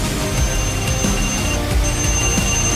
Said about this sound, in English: Yes, we get it, timer.